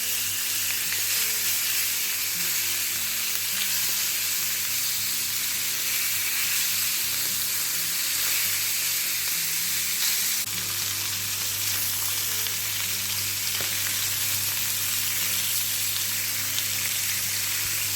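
Lamb chops sizzle steadily in a hot pan for grilled lamb chops, a loud continuous frying hiss with crackle that stays even throughout, no talking over it.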